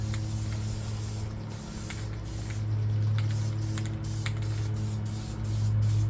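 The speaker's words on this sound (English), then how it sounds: "I'm going to spray the rust converter first." A steady, close hiss of rust converter sprayed from a can onto a rusted Ford Super Duty truck, with a low mechanical hum underneath, briefly interrupted by short pauses.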